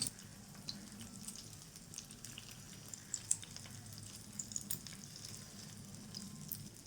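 Chicken shami kababs sizzle softly in a pan, a faint steady frying hiss with light scrapes and taps of a spoon stirring them around, no voices.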